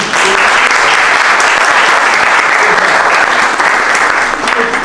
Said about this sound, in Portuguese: Bote palmas para o Francisco